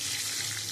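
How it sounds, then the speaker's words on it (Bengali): Potatoes shallow-frying to a reddish brown in oil in a kadai, a short continuous hiss and sizzle at moderate level. "আমি লাল লাল করে আলুটা আমি ভেজে নিয়েছি"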